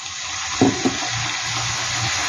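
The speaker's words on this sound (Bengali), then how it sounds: "দিয়ে দিলাম সামান্য একটু জল" A little water goes into a hot pan of egg chilli with tomato sauce, giving a couple of brief splashes over a steady loud sizzle that then settles into a softer bubbling.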